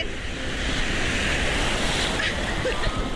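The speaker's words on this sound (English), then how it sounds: "Watch this big wave." A big Mediterranean wave breaks and surges on the beach at Tel Aviv, a loud continuous roar of surf mixed with wind buffeting the microphone, with no talking.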